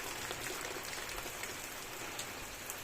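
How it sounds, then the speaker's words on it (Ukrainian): Steady rain falling outdoors in a rural Ukrainian yard, a dense even hiss of drops on surfaces with no pauses and no voices. "Такий хороший дощик."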